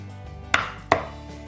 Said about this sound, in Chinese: 切得大概跟你的拇指大小相同就差不多的啦